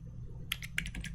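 A short burst of computer keyboard typing, several quick keystrokes clicking close by over a low steady hum, with no talking.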